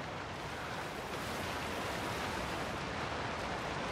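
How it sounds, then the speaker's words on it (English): Steady, unbroken rushing of a waterfall in the Alan Wake 2 video game, a dense broadband roar that stays even in level throughout with nothing else standing out. "There's a waterfall"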